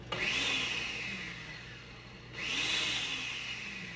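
Cold butter and flour for a flaky pie crust being pulsed in a food processor: two short whirring bursts of the motor, each rising then fading, about two seconds apart.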